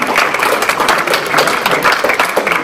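An audience claps at a flower-garden awards ceremony in Ploërmel, a lively, continuous round of applause from a small crowd with no voices over it.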